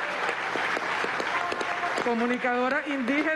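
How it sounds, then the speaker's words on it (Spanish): A crowd at a political congress claps steadily throughout while a voice speaks over the applause. "quiero un aplauso especial para esta compañera"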